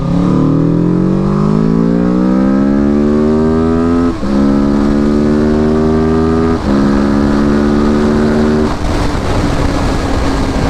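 A motorcycle with more power than a Ninja 250R accelerates hard, the engine climbing in pitch through three quick gear shifts, loud and close with no talk.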